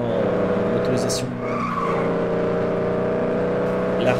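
Car engine drone with tire skidding in the FlatOut 2 racing video game, a pickup truck with a weak engine, steady loud motor hum and brief squeals, while someone talks over it throughout.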